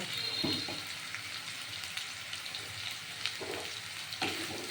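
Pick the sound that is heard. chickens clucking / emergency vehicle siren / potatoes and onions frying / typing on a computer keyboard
potatoes and onions frying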